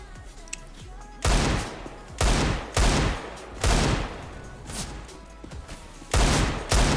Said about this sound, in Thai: มาดูเขายิงวอร์มกันก่อนครับ